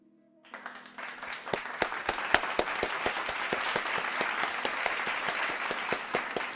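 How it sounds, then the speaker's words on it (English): Sustained round of applause, many hands clapping steadily and fairly close, starting abruptly after a brief quiet moment and holding at an even level throughout. "Clapping sound effect."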